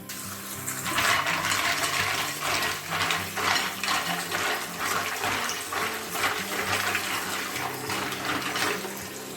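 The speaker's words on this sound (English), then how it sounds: "we're just going to run some more cold water on top of it" Cold tap water runs steadily over mussels in a broad, continuous splashing stream, close by, without pause for several seconds.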